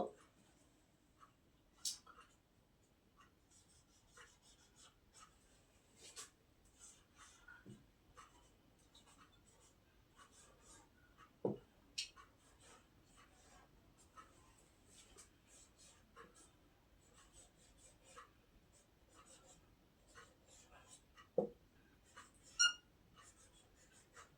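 Pen writing an answer by hand on paper during an English translation lesson, with faint scratching strokes and occasional sharp taps spread across a quiet background, no talk over it.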